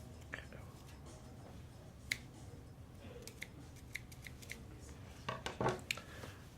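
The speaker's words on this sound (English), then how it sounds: "I'm gonna snip this." Scissors snip through a leg of a marshmallow tripod, giving a few faint, crisp clicks spread across a quiet room, with a brief cluster of close cutting sounds near the end.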